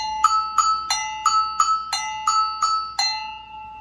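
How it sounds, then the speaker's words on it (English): A metal go-go bell struck nine times in an even, steady rhythm, each bright clanging hit ringing briefly before the next; the last rings out longer. "This a go-go bell."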